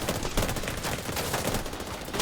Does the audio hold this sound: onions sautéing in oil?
no